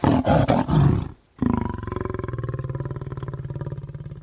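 A pride of lions roars, deep booming roars up close, several overlapping, then after a brief pause a long run of rhythmic grunting pulses fades steadily.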